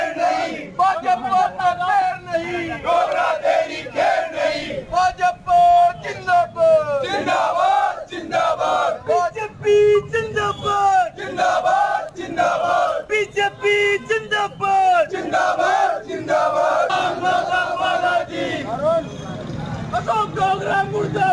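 Crowd of election protesters in Rajasthan shouting slogans in loud rhythmic unison chants, dense and sustained, with many voices overlapping throughout.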